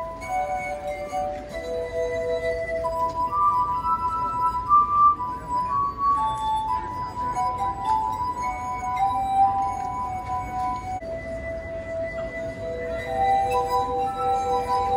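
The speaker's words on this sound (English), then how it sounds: "By taking water out, you can raise the pitch." Ringing tones from water-tuned drinking glasses played at an outdoor street fair, several sustained pure notes stepping up and down in pitch as water is removed, steady under a constant crowd murmur.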